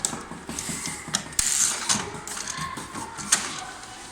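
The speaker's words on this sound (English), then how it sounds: "you can take out toners from these machines" Plastic toner cartridge being pulled from a Ricoh MP4054 copier, giving a run of close mechanical clicks, ratcheting and creaks with a few sharper snaps, no talk.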